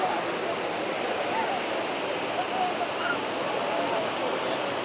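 Steady, dense rush of a small waterfall near Borra Caves on an Araku trip, flowing slowly in the rainy season, a continuous close wash of falling water with no breaks.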